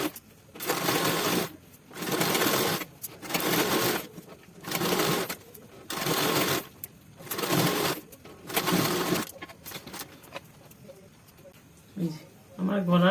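A sewing machine stitches piping onto a kaftan kurti in repeated loud bursts, about seven runs with short pauses between, then quieter handling noises near the end.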